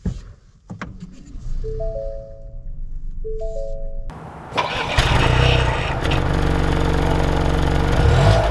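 A 2021 Ford Bronco Sport Big Bend starts up: a chime and faint clicks first, then the engine cranks and catches loudly, settling into a steady close idle rumble with no talk.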